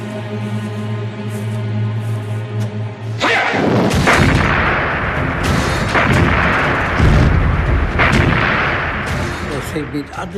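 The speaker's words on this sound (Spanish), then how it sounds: "Empezó con el bombardeo de la artillería y luego todo lo demás." Artillery bombardment opening an armored assault, with heavy booming gunfire that erupts after a sustained low tonal drone, continuing as dense, loud blasts and rumbling through the rest of the clip.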